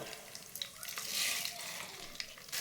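A handful of mustard seeds hitting hot oil, a close, continuous crackling sizzle that swells briefly in the middle, fairly quiet overall.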